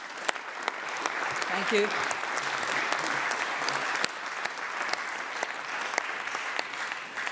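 The public gallery of the Scottish Parliament applauds after a speech, a sustained patter of clapping from a moderate-sized crowd. A voice briefly says thanks near the start.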